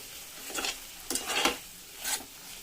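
Food stirred in a hot oiled pan while making spicy egg curry gravy, soft sizzling with a few scraping strokes of a spoon, close and fairly quiet.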